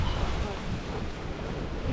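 Strong wind buffets the microphone on a cold, exposed mountain summit at Wilsons Promontory, a steady broadband roar with no break across the short stretch.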